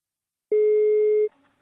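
A single telephone ringing tone during a call, one steady electronic beep lasting under a second, clean and alone, followed by faint line noise.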